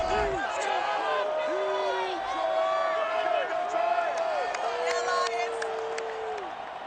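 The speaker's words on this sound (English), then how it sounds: "A good crowd on hand and seemingly ready to go in the Motor City." A large stadium crowd of about 65,000 fills Ford Field in the Motor City for a Saints versus Lions wildcard game in an EA Sports football video game, a steady roar with bursts of cheering throughout.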